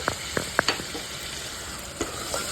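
Tomato paste frying in a pan for pulao: a soft continuous sizzle with a few sharp pops and spatters, close by and fairly quiet, with no talking.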